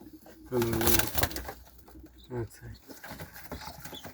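Young pigeons cooing inside a dovecote, with a few soft throaty coos rising over low background noise while someone talks nearby.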